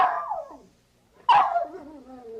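A dog barks twice in close succession, each a sharp, near yelp trailing into a whining tail, separated by a brief silence.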